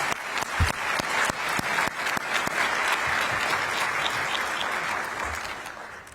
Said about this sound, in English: One more round of applause for April and Natalie.